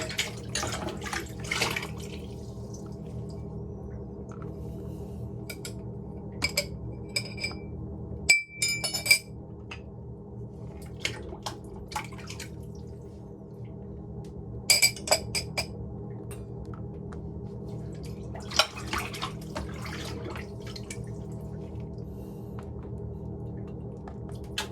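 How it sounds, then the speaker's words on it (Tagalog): Dishes being rinsed with no sink, giving a steady low wash of water broken by a few sharp glass and crockery clinks and knocks, close and fairly quiet, with no talking. "nagbabanlaw na ako. Pero kasi walang lababo"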